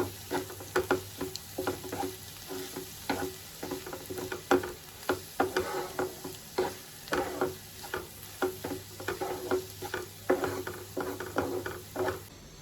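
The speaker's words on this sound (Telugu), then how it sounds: "ఇప్పుడు దీన్ని మంచిగా కలుపుకోవాలి." A spoon stirs egg curry in a pan, scraping in steady repeated strokes over a low, continuous sizzle of frying oil, close and clear.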